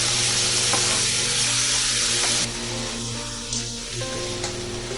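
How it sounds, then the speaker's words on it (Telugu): Grated onion frying in oil with cumin over a medium flame, a loud steady sizzle running throughout with faint stirring scrapes and no speech. "మీడియం ఫ్లేమ్లో వేయించాలి."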